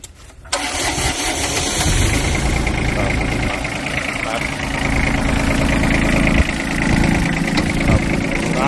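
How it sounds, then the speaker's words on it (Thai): An old imported farm tractor engine cranks and catches, then runs at a loud, steady, rough idle with clattering vibration, continuing throughout. "ลองดูสตาร์ทเครื่องนะครับแต่ดัง"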